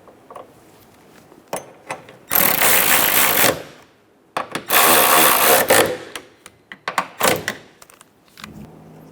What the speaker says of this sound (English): Go ahead and snug those bolts down.